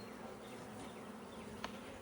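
Bees buzz steadily in a nucleus colony being made up for bought queens, a close, continuous low drone with one brief sharper tone, and no voices.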